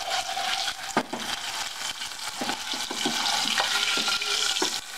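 Food browning in a frying pan sizzles steadily, broken by sharp scrapes and clinks of stirring, loud and close with no talking.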